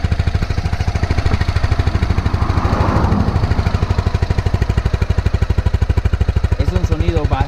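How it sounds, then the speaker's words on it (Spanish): A Honda CBR250R motorcycle idles steadily, its small single-cylinder exhaust putting out a fast, even low thump that stays loud and close, with a brief voice under it near the end. "Escuchen el tubito de escape."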